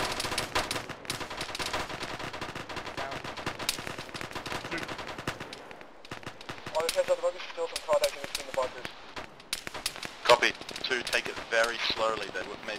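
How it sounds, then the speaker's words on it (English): Sustained bursts of gunfire around bunkers in the Arma military game, loud and continuous with rapid cracks throughout, heavier and more scattered in the second half, with voices talking over parts of it. "One might be shooting on the bunkers."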